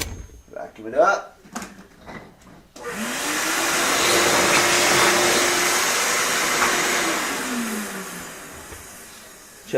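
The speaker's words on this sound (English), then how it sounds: "Vacuum it up." A vacuum cleaner sucks up debris at a guitar repair bench where a bridge is being made for a Martin D-35. It switches on after a few seconds of brief voice and handling noise, then roars steadily and loudly close by, its pitch sagging slightly near the end.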